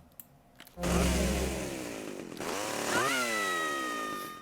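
A chainsaw in GTA Vice City roars to life after a faint click, revving loudly and steadily with a rising whine, no talking.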